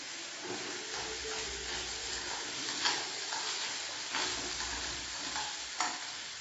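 Mango ginger rhizome dry-roasts in a pan with a continuous soft sizzle, broken by occasional scraping stirs, close and fairly quiet.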